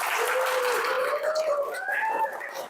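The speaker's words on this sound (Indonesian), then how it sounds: "Boleh sekali lagi aplaus untuk kalian semuanya" Students at a school lesson break into broad applause, a dense wash of clapping that starts full and slowly thins, with a voice speaking over it.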